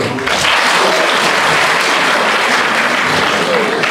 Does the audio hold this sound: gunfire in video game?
no